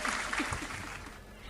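Audience applause at a Hindi kavi sammelan poetry recital, a brief burst of clapping that fades slightly over a second and a half, with a voice faintly audible beneath it.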